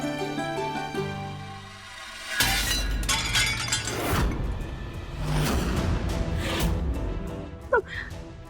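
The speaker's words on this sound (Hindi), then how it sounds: "हे भगवान, ये थाल कैसे छूट के गिर गई?" A ritual plate (thaal) slips and crashes to the floor, a loud sudden clatter and shattering that rings out after a sung chant ends, followed by scattered clinking and rattling as pieces settle.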